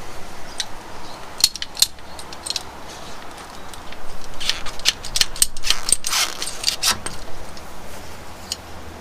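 Cutters snipping and trimming a fuel line on a fuel tank, with a series of sharp clicking cuts and small handling rattles at close range and no talking.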